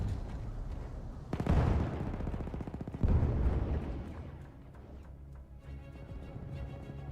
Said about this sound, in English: Oh my god, not another grenade!